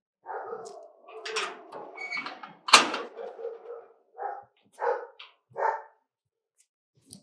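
A dog barks in a domestic home setting, several sharp bursts spaced across the scene, close and fairly loud, with a sudden loud thud like a door and some voices mixed in.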